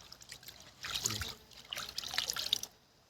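Herbicide mixed in water is poured in two short bursts, splashing and trickling into a container for spraying a maize field, then stops; close and fairly quiet.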